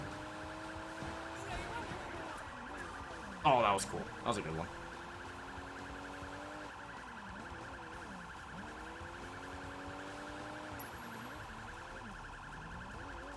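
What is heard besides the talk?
police siren in the video game Sleeping Dogs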